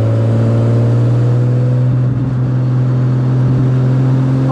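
A Jaguar C-Type racing car drives at steady speed, its engine a loud, close, continuous drone with a deep tonal hum that holds level throughout.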